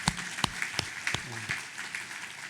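An audience applauds at a seminary installation ceremony at Yeungnam Theological University, with scattered sharp claps in a short burst and a voice briefly heard alongside.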